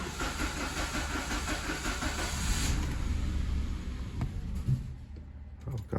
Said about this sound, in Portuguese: vou ligar aqui o carro, pessoal, observa o barulho que vai fazer